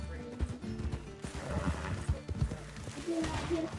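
Horse hooves clip-clopping at a quick gallop in Red Dead Redemption 2, with a neigh and game music and ambience layered beneath a steady, fairly loud rhythm.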